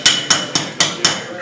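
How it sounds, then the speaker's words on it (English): A hammer strikes a metal sheet five times at an even, quick pace, each blow a sharp, bright, ringing clang heard up close. "As I started to hammer this"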